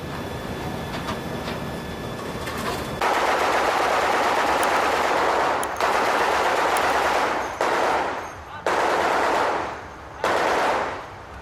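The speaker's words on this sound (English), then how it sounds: "Philippine warships reacted instantly, firing warning shots and maneuvering aggressively to protect their damaged vessel." Philippine warships fire warning shots at sea: several loud, close bursts of rapid gunfire separated by short pauses.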